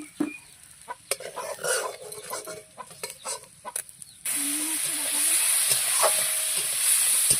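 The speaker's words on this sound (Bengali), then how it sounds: "চিংড়ি মাছটাকে একটু ভালো করে ভেজে নেব" Prawns dropped into a hot wok, first scattered knocks and scrapes, then a sudden loud, sustained close sizzle of frying.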